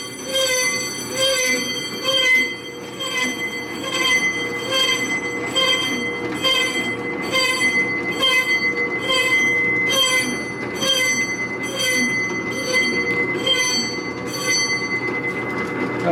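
A 1982 Harley-Davidson FLT shovelhead rear brake disc turning on a lathe, giving a loud, continuous high metallic squeal with a steady rhythmic pulsing, close up and with no talking.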